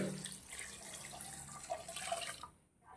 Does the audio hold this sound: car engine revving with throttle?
no